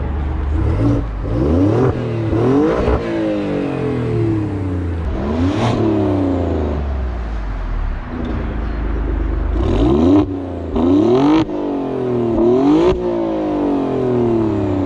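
Tuned Alfa Romeo Quadrifoglio with a 2.9-litre V6, ECU tune, stock intakes and exhaust valves open in race mode, revs repeatedly, each loud, rasping climb dropping back before the next, close and alone.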